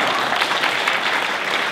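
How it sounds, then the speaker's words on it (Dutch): A hall audience at a local water board election debate in Almelo breaks into brief applause, a dense wash of clapping that holds steady throughout the short burst. "Applaus."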